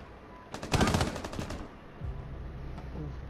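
A rapid burst of automatic gunfire in Rainbow Six Siege, loud and close, lasting about a second. It is followed by faint background noise and small game sounds.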